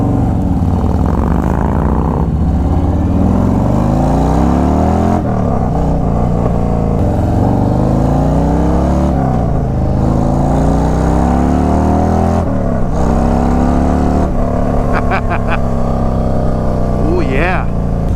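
Stage 2 exhaust pipes on a 2021 Harley-Davidson CVO Road Glide rumble continuously while riding, the engine note rising and falling through gear changes with wind noise, and a voice occasionally comes through underneath.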